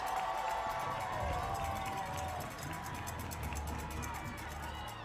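A stadium crowd at a high school football rivalry game roars for the defense, a broad steady wash of cheering and shouting from the stands, distant and sustained.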